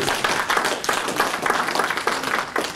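A church congregation claps together in acclamation during a French-language worship service, producing a loud, dense, continuous wash of clapping with faint voices underneath.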